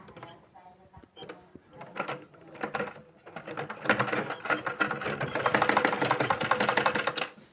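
A domestic sewing machine runs in uneven bursts while stitching piping onto a blouse, its rapid mechanical chatter building to a steady close whir with a few handling clicks, and no talking.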